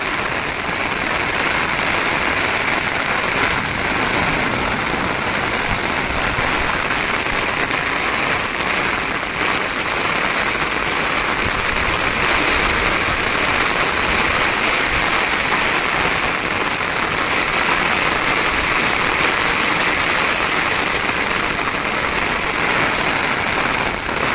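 Heavy rain pours down without letup, a dense, loud, steady hiss of water drumming on surfaces close by, with no voices.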